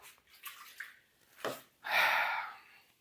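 Water poured into a pot of pork for Hungarian pork stew, a steady gushing splash rising after a few faint clinks and a brief whoosh, close and fairly loud, then tapering off.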